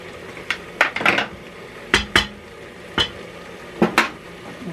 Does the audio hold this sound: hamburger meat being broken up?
yes